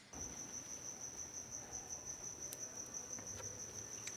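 Crickets chirp in a steady, continuous high trill, holding evenly throughout with faint background ambience and no talking.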